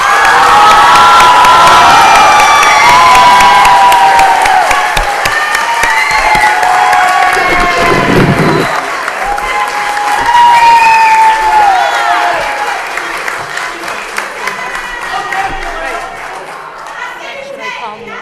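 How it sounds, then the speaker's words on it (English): Audience at a school committee meeting cheers and applauds for the summer reading representatives, with children shouting and whooping over sustained loud clapping that gradually thins toward the end. "I'd like everyone to receive a round of applause from the audience"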